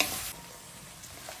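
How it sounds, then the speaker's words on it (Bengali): Mixed vegetables for veg fried rice fry in a hot pan, giving a steady sizzle with a brief louder burst of stirring at the start. "এটাকে আমি অল্প আধা মিনিট বা হাফ মিনিট মতন ভেজে নেব"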